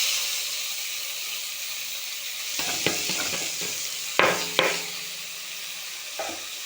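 Food frying in a small amount of hot oil in a pan, a continuous quiet sizzle broken by several sharp crackles and spoon stirs, close and alone without talk.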